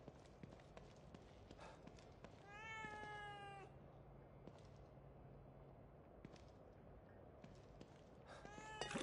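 A cat gives a drawn-out, wavering meow, then another begins at the very end, set against a busy background of light tapping and clattering steps.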